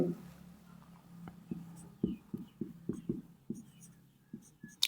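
Pen scratching on paper while working a quadratic math problem: a quiet series of short strokes and taps in an irregular rhythm, close up, with faint background hiss.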